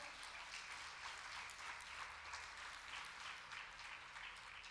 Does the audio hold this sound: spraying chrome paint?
no